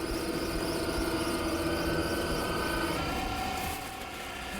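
A cellulose insulation blowing machine churns and breaks up a bale of loose-fill cellulose in its hopper, a steady loud mechanical roar with a high whining squeal running throughout, dropping slightly near the end.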